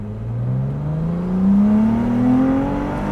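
A Ferrari 296 GTS pulls hard under acceleration with its roof open, engine note climbing steadily in pitch over about three seconds, loud and close with no talk over it.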